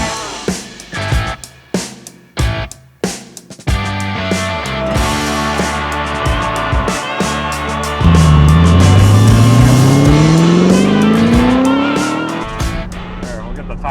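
A 2005 Ford GT supercar with 550 horsepower idles in short revving bursts, then pulls away with a loud, rising engine note that climbs steadily through the gears, with tire noise beneath.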